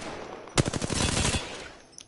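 Rapid burst of automatic gunfire in Apex Legends, a dense run of sharp shots lasting under a second, loud and close, fading into a brief tail with a faint click at the end.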